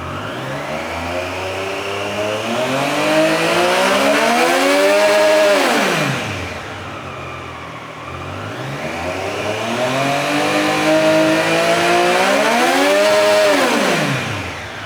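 A brand-new superbike's engine revs up and down in two long sweeps, climbing to a loud high-pitched howl and easing back to idle between, close by with no talking.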